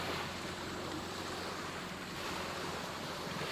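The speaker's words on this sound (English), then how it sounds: "You can probably see them crashing against the shore." Big waves crash against a rocky shore while kayaking with the current, a steady, loud roar of surf mixed with wind buffeting the microphone, no voices.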